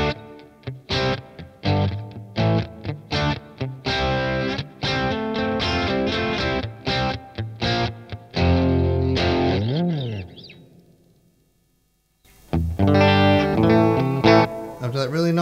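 An electric guitar runs through the amp models of a Boss IR-2 preamp pedal, strummed chords and picked notes with a clean-to-driven tone ringing out, a fading sustain, a short silence, then more playing.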